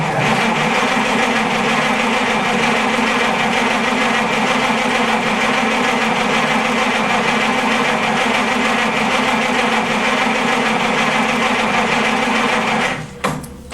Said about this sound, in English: let's just crank it a little bit here